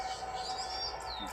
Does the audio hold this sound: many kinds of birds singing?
yes